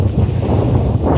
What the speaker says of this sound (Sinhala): අංකල් අර මෙතන දියල්ලා තියෙන්නේ.